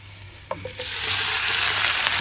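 Bitter gourd, carrot and onion curry with turmeric and chilli powder is stirred in a pan. A couple of utensil clinks come first, then a louder, steady sizzle builds up close by.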